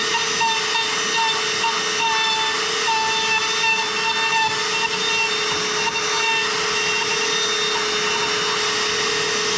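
A router cutting a mortise into wood along a template: a loud, steady, high-pitched whine and hiss that runs continuously with only slight variation.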